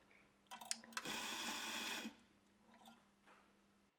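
An espresso grinder grinds coffee beans for about a second in one loud, steady burst, with a few small clicks and knocks before and after it against a quiet background hum.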